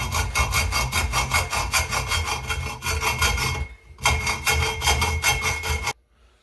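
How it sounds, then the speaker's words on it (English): A hand saw cuts through the steel backbone of a Softail motorcycle exhaust in steady, rapid back-and-forth strokes, loud and close, with one brief pause before the sawing resumes and then stops. "So I'm just gonna literally run my saw through here and just remove some of that material."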